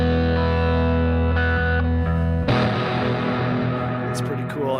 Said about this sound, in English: So that's how that air reverb sounds.